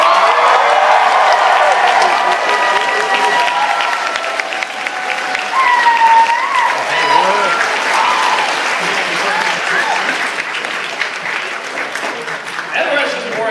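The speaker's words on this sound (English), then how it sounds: "Applaud!" Loud applause and cheering from the audience at an anime convention panel, a dense, sustained burst of clapping close by, with voices heard through it.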